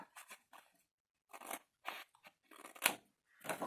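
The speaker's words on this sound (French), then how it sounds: "On coupe celui qui est le plus à l'extérieur." Scissors snip through paper for a scrapbooking ink stand, making about six short, close crisp cuts separated by brief silences.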